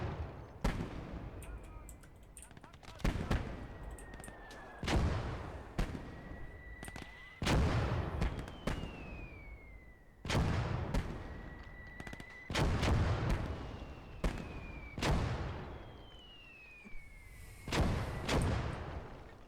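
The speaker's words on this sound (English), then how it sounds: "God, here come the mortars." Mortar shells crash down repeatedly in the WWII strategy game Call To Arms: Gates Of Hell, loud sharp blasts every couple of seconds with whistling incoming rounds descending between impacts and rumbling decay, over a steady battlefield din.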